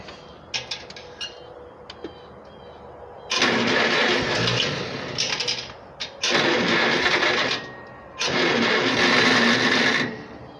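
A Farmall Cub tractor engine is cranked and starting in three long, loud, close bursts, with quiet clicks and handling noises in between.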